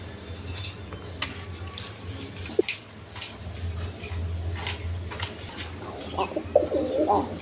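Pigeons at a pigeon farm coo softly in repeated low murmurs, with sharper bird chirps and clattering knocks nearby, rising livelier toward the end.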